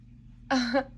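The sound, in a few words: cat meowing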